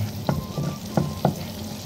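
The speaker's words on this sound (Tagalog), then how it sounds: "Ano po natin hanggang mag-melt ang ating butter guys." Butter melts in a hot pan with a soft continuous sizzle, punctuated by a few close scraping stirs at roughly even intervals; nothing else intrudes.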